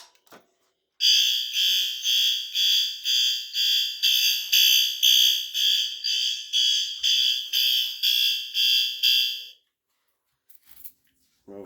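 A fire alarm system set off by a pull station blares a loud pulsing electronic horn in steady repeated bursts for about eight seconds, then stops, followed by a few faint clicks.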